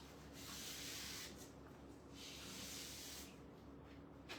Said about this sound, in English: sanding the round